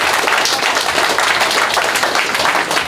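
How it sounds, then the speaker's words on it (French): Loud, dense audience applause for two veteran referees at an arm-wrestling exhibition, sustained and steady throughout with no voices standing out. "on les applaudit très fort"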